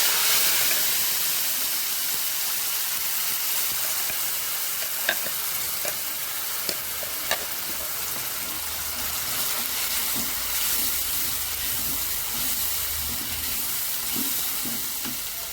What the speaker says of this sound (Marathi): हा मसाला छान प्रकारे भाजून घ्यायचा आहे